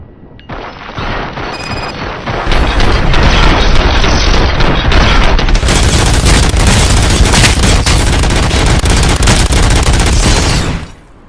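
Sustained heavy gunfire in the video game Robocop: Rogue City, a loud dense roar of rapid shots and blasts that keeps going for several seconds before cutting off abruptly.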